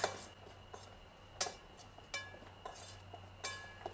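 A utensil clinks and scrapes against a bowl while shallots are tossed with a thin coating of crispy batter flour, giving a few quiet, irregular taps over a soft background hum.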